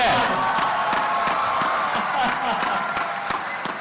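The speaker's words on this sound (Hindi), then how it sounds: "ताली बजा दे रहे हो ढंग से" Steady crowd applause at a poetry event at IIT Indore, a continuous wash of many hands clapping close by, sustained evenly throughout.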